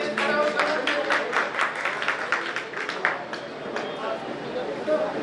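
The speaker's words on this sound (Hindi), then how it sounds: "इनके लिए जोरदार तालियां" Hall applause for an award winner, a crowd clapping fast and steadily with dense overlapping claps that carry on loudly and then gradually thin out.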